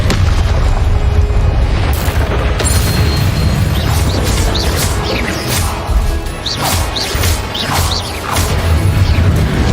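Confringo fire spell explosions in Hogwarts Legacy, a dense, loud run of booming blasts and crashing impacts with whooshes, continuous and overlapping for the whole stretch, no talking.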